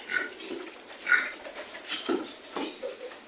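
Grunts from piglets on a small Philippine farm, a few short snorts scattered across the moment, moderately close and fairly quiet, with faint clinking in the background.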